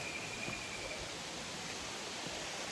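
Small waterfall at Baxter Falls (Curug Baxter) with low water flow, a faint, steady rushing hiss that holds unchanged throughout.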